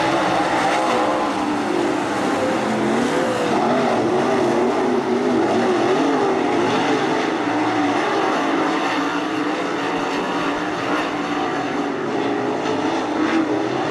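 Dirt track race cars roar around the oval at Attica Raceway Park, a loud continuous engine drone of a pack running nose to tail, steady throughout with no break.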